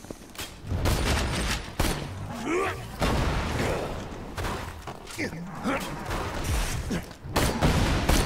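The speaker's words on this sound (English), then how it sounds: "I'm shooting at him with a rocket launcher while you have him slagged" Rocket launcher fire in a video game, with several heavy booming shots and thuds spread unevenly across the clip, mixed with other game noise and excited talk.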